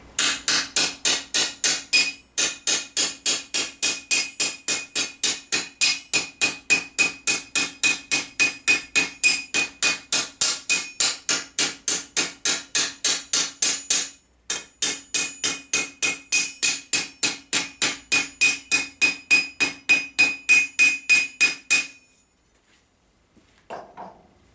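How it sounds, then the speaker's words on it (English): Hammer tapping a metal armour plate held off the face of an anvil, a fast, even run of bright metallic strikes, briefly pausing once, then stopping near the end. "just keep it off the face of the anvil and tap it back"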